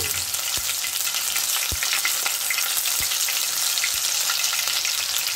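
Onion paste fries in oil for a fish kofta curry gravy with a loud, dense, steady sizzle that fills the whole clip. A few soft low knocks from stirring sit underneath, and no one speaks.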